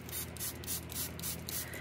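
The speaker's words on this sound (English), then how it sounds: "now I'm going to start spraying with water and watch the magic happen" A spray bottle misting water onto watercolor paper in rapid repeated pumps, a rhythmic series of short hissing bursts close by.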